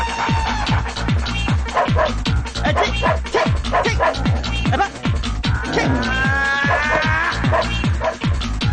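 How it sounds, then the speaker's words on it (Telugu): A dog in a comedy film scene barks in a rapid, steady run of loud, close woofs, with whimpering and yips mixed in and a person's voice crying out beneath it. "అది నిజం కుక్క"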